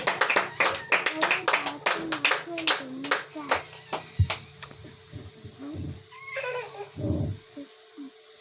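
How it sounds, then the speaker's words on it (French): A church congregation claps rhythmically in quick, loud bursts of hands, then the clapping thins out as voices call and talk over the room. "Acclamez pour le Seigneur"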